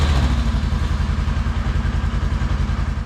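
A Polaris RZR 900 side-by-side engine idles steadily and close by, a loud, even, low-pitched throbbing with a fast regular pulse and slight mechanical clatter, with no voices.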